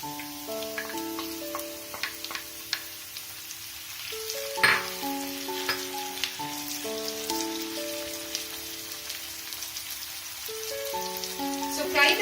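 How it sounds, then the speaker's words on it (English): Tomatoes frying with golden onions in a pan for methi gojju: a steady close sizzle with crackling pops and occasional stirring scrapes, while soft melodic music plays throughout. "So fry the tomatoes well."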